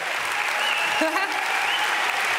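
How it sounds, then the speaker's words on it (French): An audience at the Series Mania festival opening show in Lille applauds loudly, a dense sustained clapping of a large crowd that fills the hall without pause, with a voice briefly heard over it. "On peut les applaudir très fort, Lille"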